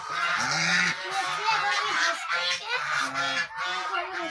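A pet goose settled on a clutch of eggs gives loud, close, repeated nasal honks in uneven bursts that run through the whole stretch without pause.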